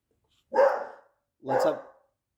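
A dog barks twice, close and fairly loud, with a clear pause between the two barks against silence.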